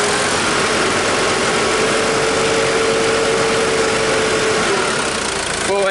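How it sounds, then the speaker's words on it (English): Ford Ranger engine briefly revved above idle during a battery and alternator charging check, a loud, steady, close-up engine drone held throughout. "So if you give it a little rev,"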